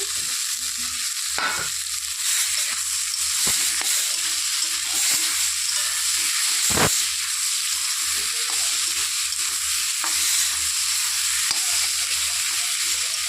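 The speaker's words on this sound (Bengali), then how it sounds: "একটু নেড়ে চেড়ে নেব" Fried potato and taro pieces are stirred in a frying pan of hot oil, a continuous sizzle broken by repeated scraping and clacking strokes of a spatula, close and fairly loud, with no talking.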